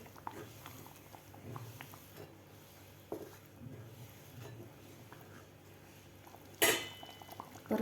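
Faint, sporadic scraping and clinking of a spoon against a pan of okra masala with water, soft and irregular, with one sharper metallic clank toward the end.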